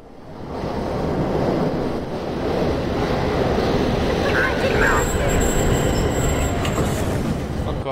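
A train arrives in the video game The Darkness, a loud, sustained rumble of wheels on rails that builds and holds, with a thin metallic squeal partway through.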